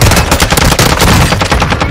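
Rapid automatic gunfire in the Warzone 2 video game, loud dense bursts of shots crackling continuously for about two seconds with no voices over it.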